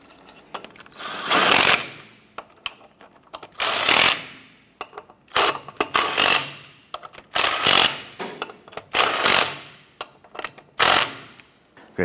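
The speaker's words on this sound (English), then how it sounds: "Once these are all on, I'm going to go ahead and snug those down." A power ratchet or impact tool runs down the wheel lug nuts on a Chevrolet S10 in about nine loud, whirring bursts, each rising and then cutting off, separated by brief pauses, close up, with no voices.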